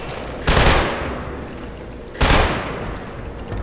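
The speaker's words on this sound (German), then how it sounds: "Aber ich höre doch noch Schüsse." Two sharp, loud bursts of gunfire from the video game Killzone 2, each with a fast attack and a booming tail that slowly fades, spaced about two seconds apart.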